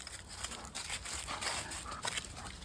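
A dog close by making soft whimpering, panting and yipping sounds in short irregular bursts.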